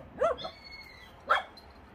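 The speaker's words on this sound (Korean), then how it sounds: "애들 개가 너무 많으니까 서로 싸우고 막." Rural dogs squabble, giving two short, faint barks or yelps about a second apart at a moderate distance.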